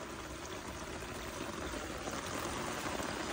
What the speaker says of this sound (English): if you put a drain at the lowest point, all the water will make it to that drain